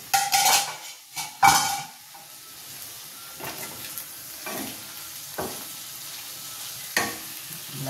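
Chillies fry in a pan for a mirchi masala curry, with a low continuous sizzle under repeated scraping and clinking of a spoon stirring against the metal, louder clatters near the start.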